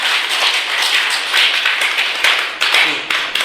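A room of vice principals at a Goa training workshop claps in a loud, dense burst that continues briefly with a few uneven individual claps near the end.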